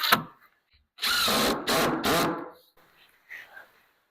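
Power drill backing out Phillips head screws, with a brief whir at the start and then three loud bursts of buzzing drill noise close by, followed by faint clicks and handling.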